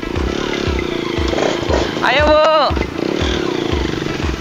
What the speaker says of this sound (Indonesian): kita mau menikmati naik motor